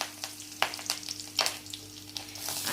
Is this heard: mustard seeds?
yes